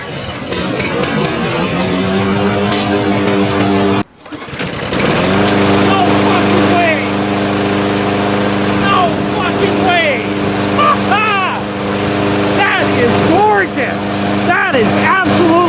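A Yard Force 22-inch walk-behind lawnmower engine cranks briefly, cuts out, then catches and settles into a loud, steady close-up drone, with a person speaking over it.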